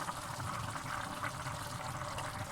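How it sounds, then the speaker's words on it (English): A cup of water is poured into a pot of cooking mince curry with potatoes, a continuous splashing, gurgling rush at close range with no talking. "what we're going to do is just add another cup of water"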